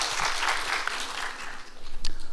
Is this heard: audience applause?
yes